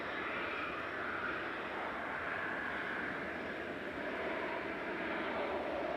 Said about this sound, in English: And SAS touching down.